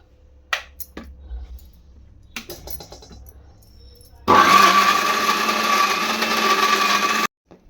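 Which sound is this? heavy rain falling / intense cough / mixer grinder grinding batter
mixer grinder grinding batter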